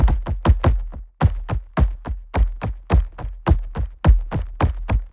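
Epic trailer percussion from the Berserkr Pro library pounds out a deep, booming drum rhythm with a quick triplet fill, heavy low hits in a driving pattern, loud and alone with no voices.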